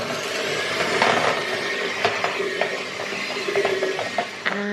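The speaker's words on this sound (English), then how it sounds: "Now I'm mixing the eggs and the dumpling together using dough hooks." Electric hand mixer fitted with dough hooks working eggs into a dumpling dough, a steady whirring drone with irregular knocks and clatters as the hooks turn through the mix, close up and moderately loud.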